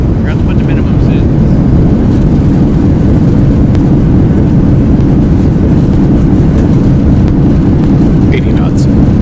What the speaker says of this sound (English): And we'll get reversers going here.